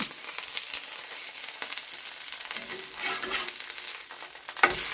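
Ottada, a rice-flour snack wrapped in banana leaf, cooking in a hot wok, with a steady close sizzle and frying crackle, occasional scraping and rustling as it is turned, no voices.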